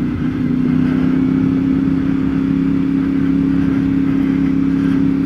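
A CFMoto 450MT adventure motorcycle ridden on the road, its engine holding a steady, loud mid-pitched drone with constant rumble and wind noise throughout, no voices.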